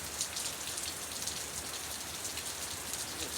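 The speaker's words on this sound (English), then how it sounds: "allow the rain to do its work" Rain falls steadily outdoors, a soft, even patter of drops hitting surfaces that continues unbroken and alone at low volume.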